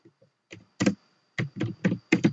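Close, distinct keystrokes sound on a computer keyboard, first a few light taps and then a quick irregular run of louder clicks, against a quiet background with no speech.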